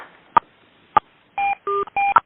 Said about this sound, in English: you'll be prompted to press 10 on your phone